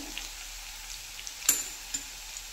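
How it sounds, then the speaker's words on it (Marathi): Garlic roasting in a pan for mixed sprouts aamti gives a faint, steady sizzle with a few soft clicks of stirring, quiet and close. "आणि लसूण थोडासा छान असं भाजून घ्यायचा"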